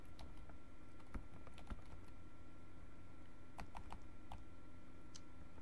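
A name is typed on a computer keyboard as a quiet, uneven patter of key clicks, with some clusters of faster taps, close by and without any voice.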